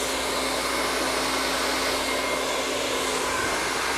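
A hair dryer blowing close and steady as curly hair is blow-dried with a lot of heat at the roots, a constant loud whooshing hum with no talk.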